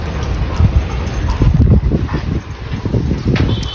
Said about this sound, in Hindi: कितनी भयंकर हवा चल रही है